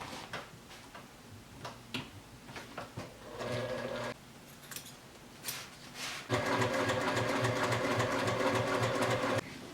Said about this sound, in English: I'm just sewing right along the edge of the twill tape, trying to make sure that I'm also catching the underside